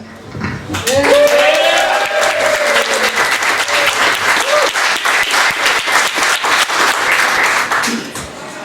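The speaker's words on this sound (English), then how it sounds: "The loudest cheer keeps him here." A startup night competition audience cheers and applauds a winner, with loud, dense clapping and shouts building after a short speaking voice and lasting several seconds before tapering off.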